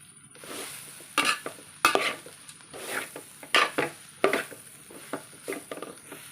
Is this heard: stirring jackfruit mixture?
yes